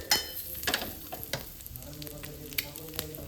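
Eggs fry in oil with green paste and curry leaves, crackling and sizzling softly up close over low heat. Intermittent pops and light spatter sound across a quiet background with no talking.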